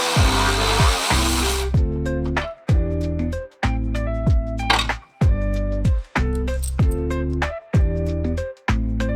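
A power tool on the sway bar bolts of an E30 fitted with a K-swap, running in repeated bursts of roughly a second each with short pauses between them, loud and close.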